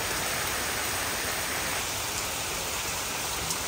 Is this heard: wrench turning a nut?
no